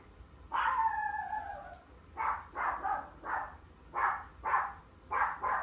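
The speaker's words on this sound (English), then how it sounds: "Oh, your dog is going crazy." A dog barks excitedly, opening with a drawn-out whining yelp and then a quick run of loud, close barks in uneven bursts, with no talk over it.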